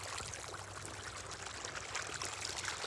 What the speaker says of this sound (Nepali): आज सिँचाइ मोटरले यहाँ हुन लाग्यो। सिँचाइ हुँदैछ, अब हुन लाग्यो।